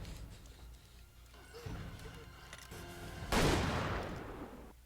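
A single gunshot bursts out loud and sharp in a scene from the TV show 1923, cutting through quieter dialogue and ambience, followed by a lingering crash-like roar that slowly fades.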